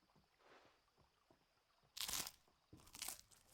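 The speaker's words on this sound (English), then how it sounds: "Oh, that's some good eating sounds." Crunchy bread being eaten in Final Fantasy 16, two loud crisp bites close up after a quiet stretch of faint rustling.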